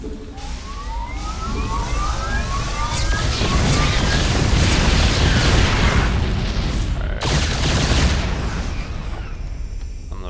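Explosions and weapon fire in StarCraft II as units attack a rip fuel generator, a dense barrage of booms and blasts swelling to a loud sustained roar, with siren-like rising tones and a sharp burst near the end.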